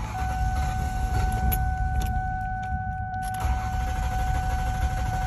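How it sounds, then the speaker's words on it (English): A Ford Taurus from the 2000–2007 era cranks with its fuel pump shut off, a steady droning starter whir carrying on for several seconds with two steady electrical tones above it and no voices. "then you're going to attempt to start the car. But since the fuel pump is turned off"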